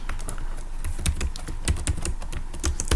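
Rapid keystrokes on a computer keyboard, close and crisp, with irregular clicks tapping out a short burst of typing and no voice over them.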